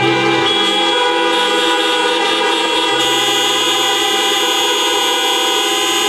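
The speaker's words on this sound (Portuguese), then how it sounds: "Se você crê, aplauda o Senhor através da sua buzina." Many car horns blare together continuously at a drive-in church service, loud and overlapping, some steady tones shifting as individual horns start and stop.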